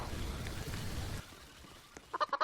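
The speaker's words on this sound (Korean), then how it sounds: "뭐왜 닭소리가 나? 어 닭들이다 닭들" Chickens cluck in a Roblox jump map game, a quick burst of short, close clucks after a stretch of dull rumbling game noise.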